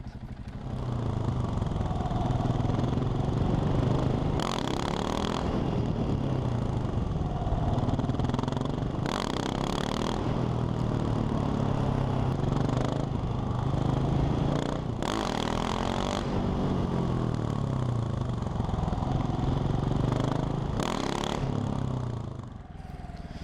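A motorcycle engine runs steadily at close range during beginner wheelie practice, with several sharp bursts of revving and clattering spread across the stretch and no voices.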